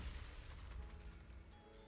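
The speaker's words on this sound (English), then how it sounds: "That was such a controlled explosion." A deep, booming explosion in the video game Zenless Zone Zero, a single heavy low rumble that fills the short moment and slowly fades, with no talk over it.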